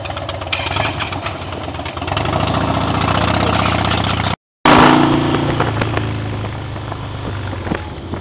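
A Harley-Davidson motorcycle engine idles up close with a steady, loud rumble that stops abruptly for a split second before resuming.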